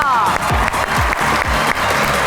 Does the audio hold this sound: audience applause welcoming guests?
yes